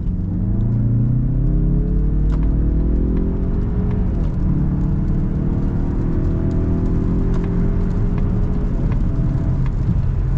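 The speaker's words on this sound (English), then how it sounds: "I am going to get an acceleration up to highway speed so you guys can see how this actually accelerates" A 2021 Mazda CX-30 in sport mode accelerates hard up to highway speed, its engine note climbing steadily through the gears over a loud, continuous road rumble heard from inside the cabin.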